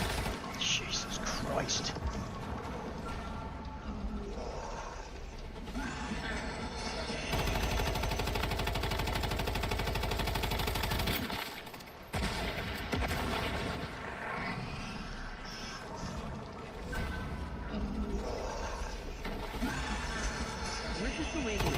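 Dense gunfire rattles in the survival video game Once Human as pods are shot at, with loud, sustained bursts stretching across the whole stretch and a player's voice talking over the shooting.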